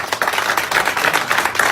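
Audience applause for guests at a formal event with embassy ambassadors present, a steady dense patter of clapping sustained throughout, fairly close and even in level.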